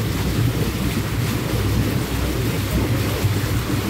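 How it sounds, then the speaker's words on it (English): Outdoor hot tub jets bubble and churn in a steady, dense wash of water noise, loud and close, with no voices over it. "Hey, I can't hear, damn it, with the bubbles going."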